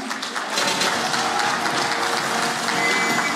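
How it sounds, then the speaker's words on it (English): An audience claps at a PDP political party launch at the Hyatt, a dense, steady wash of clapping that stays loud and even throughout. "Now you clap for him, just now."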